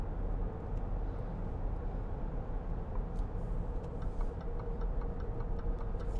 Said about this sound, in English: you can hear the indicator